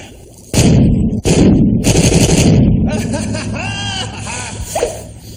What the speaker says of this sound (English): That stored chemical potential energy was released when we saw the big explosion.